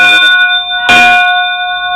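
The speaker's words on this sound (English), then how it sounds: "Notice the ping, the bell shape itself gives that high pitch." A bell from the collection aboard FEC steam engine #253 rings with a bright, high ping, its sustained tones holding steadily and swelling once with a fresh strike near the middle before ringing on.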